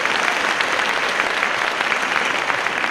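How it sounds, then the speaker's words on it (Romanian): An audience applauds children from a community school making their first stage appearance, a dense, steady wash of clapping that holds at full strength for about three seconds with no voices over it. "multe, multe aplauze pentru ei."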